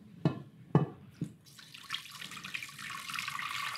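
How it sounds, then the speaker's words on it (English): Strained miso broth is poured back into a pan in a kitchen: a few sharp knocks and clinks, then a steady trickling splash of liquid running on for a couple of seconds. "And then we'll put this broth back into the pan."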